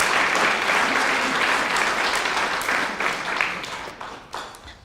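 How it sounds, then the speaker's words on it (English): Audience at an oratorical contest in Birmingham applauding, a full sustained burst of many hands clapping that holds steady and then thins out toward the end. "So we applaud the Community House for everything they do"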